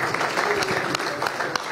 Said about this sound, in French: Applaudissez pour les camarades lucains.